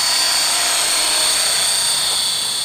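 Model helicopter hovering in place, a loud, steady high-pitched whine of motor and rotor that holds constant throughout with no talk.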